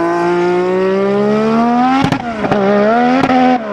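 A high-pitched V6 turbo Formula 1 engine revs steadily and climbs in pitch, with sharp crackling pops from the exhaust near the end, loud and close.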